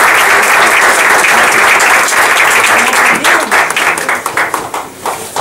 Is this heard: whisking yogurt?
no